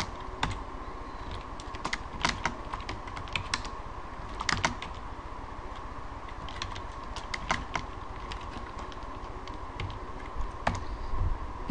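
Close, steady typing on a computer keyboard while writing a simple script in the Basic4android IDE, rapid irregular key clicks with occasional louder strikes and no speech.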